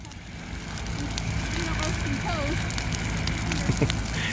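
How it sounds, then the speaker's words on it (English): Large outdoor bonfire burning with steady crackling and roaring hiss, small pops scattered through, with faint voices in the background. "That is a lot of fire."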